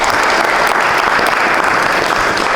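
Audience applause at a youth economic empowerment project event, dense continuous clapping from a crowd, loud and sustained throughout.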